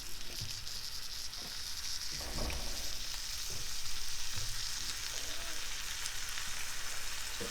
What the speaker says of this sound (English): is cook off our andouille